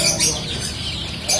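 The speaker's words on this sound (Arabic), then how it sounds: "هيدا الحسون." A caged goldfinch gives bright, high chirps in short bursts near the start and end over a low background hum, with no one talking.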